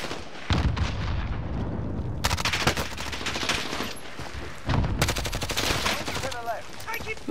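Rapid automatic gunfire and explosions in Call of Duty: Warzone with Grau and MP5 weapons, dense loud bursts of shots in repeated volleys, close and continuous, with a voice speaking briefly.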